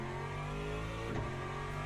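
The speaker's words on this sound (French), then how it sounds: "la sonorité de ce moteur les gars" GT3 race car engine in a racing video game, a sustained loud mid-pitched drone holding steady with a slight rise around the middle, no voices over it.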